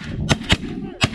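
Shotgun blasts ring out during a snow goose hunt: three sharp, loud reports, the first two in quick succession and the third about half a second later.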